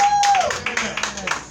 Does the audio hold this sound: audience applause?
yes